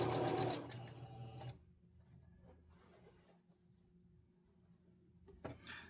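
Domestic sewing machine stitching a quilt, running a reverse stitch to lock the seam: a loud, dense mechanical whir for about a second and a half, then quiet hum, with a brief burst of stitching again near the end.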